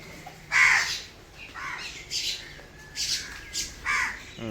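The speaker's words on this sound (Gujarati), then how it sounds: "આવી ગયા બધા કાકડા ને કાબરો ને" Several crows and mynas call in short bursts, one after another, fairly close, with harsh squawking calls spaced across a quiet background.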